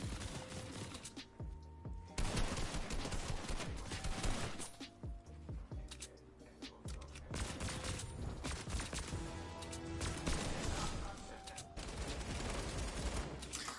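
Light machine gun fire in a video game battle, dense bursts and rapid volleys of shots overlapping with other gunfire throughout, loud and close with occasional mechanical clatter.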